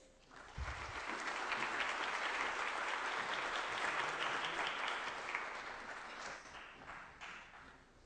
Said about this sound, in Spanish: les pido por favor reciban con un aplauso a los panelistas